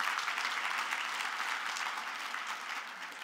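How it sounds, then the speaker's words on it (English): Audience applause at a Good Samaritan award event: steady, dense clapping from a crowd that holds at an even level throughout, with no talking over it. "You applaud as much as you want."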